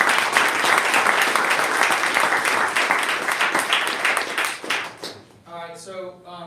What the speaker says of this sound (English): Guess we'll give a round of applause for Bobby.